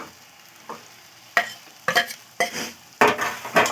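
Fried eggs and whole onions go into a pan of sizzling masala for an onion curry, giving soft frying crackle and several louder bursts of stirring and scraping in uneven strokes close by.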